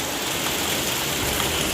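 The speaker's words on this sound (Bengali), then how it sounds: "আর বাইরে হচ্ছে তুমুল বৃষ্টি, আর এখন হচ্ছে প্রচণ্ড জোরে বৃষ্টি।" Heavy rain pours outside during a rainy afternoon, a steady, dense hiss of water falling evenly across the whole moment with no pauses, moderately loud and unbroken.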